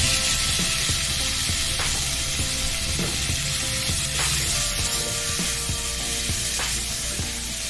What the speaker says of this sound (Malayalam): വീണ്ടും സ്റ്റൗ കത്തിച്ച് ഈ പപ്പായ നമുക്ക് ഇട്ട് കൊടുക്കാം.